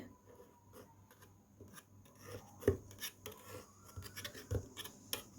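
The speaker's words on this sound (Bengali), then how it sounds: "এখন সাইড একটা ছুরি দিয়ে সাইড কেটে দিতে হবে" A knife scrapes and rasps around the sides of a pan of steamed egg pudding, giving soft, irregular scratching strokes with a few sharper knocks, fairly quiet and close.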